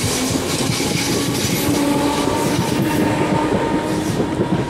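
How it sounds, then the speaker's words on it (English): A train passes Headbolt Lane station in a steady, loud stereo rumble, with continuous rolling wheel noise and faint rhythmic clatter throughout, no voices. "A bit of stereo train noises for you."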